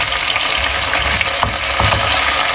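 Okra frying in half a cup of oil in a pan on the stove gives a steady, dense sizzle throughout, with a few brief stirring scrapes near the end and no talking.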